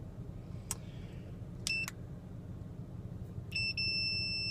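A multimeter's continuity test gives short high-pitched electronic beeps intermittently, three brief chirps spaced apart over a low hum.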